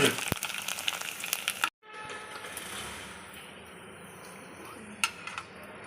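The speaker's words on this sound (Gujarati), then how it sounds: "આવી રીતે આપણે બધી સેવ તળી લઈશું." Rice sev (rice noodles) frying in hot oil, a bright crackling sizzle up close that drops abruptly and then settles into a softer, steady hiss, with a brief crackle burst near the end.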